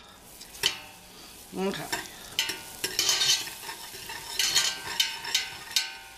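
Cheese gravy being whisked in a pot, with repeated scraping and clinking strokes against the metal in an uneven rhythm and soft sizzling underneath; one brief word is spoken.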